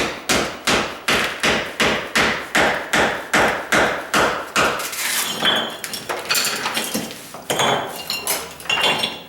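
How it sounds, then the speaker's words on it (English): Tile being knocked off a kitchen countertop, with about a dozen evenly spaced sharp hammer strikes on ceramic, then irregular cracking, scraping and clinking of loose tile pieces, then another quick burst of strikes, close and loud. "I'm going to see how easy it is to pull the top layer off so that then I can start using my pry bar"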